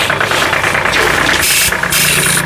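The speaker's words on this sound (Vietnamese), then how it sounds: "Máy chạy im ghe luôn, thấy không?" A pesticide sprayer machine's engine running steadily, loud and close, with a constant mid-pitched mechanical drone and vibration throughout, no talking.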